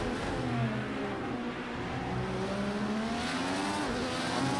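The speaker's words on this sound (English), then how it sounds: "On the throttle out of the corner." IndyCar engine in Project CARS 2 at Circuit of the Americas, revving hard on throttle out of a corner, a steady high-pitched rising whine with rolling harmonics, loud and continuous with no talk.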